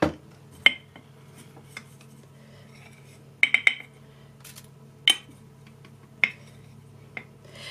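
Chopped dried onion and cornstarch are spooned into a jar, producing a handful of sharp glassy clinks and taps of a spoon against glass, spaced irregularly over a quiet low hum.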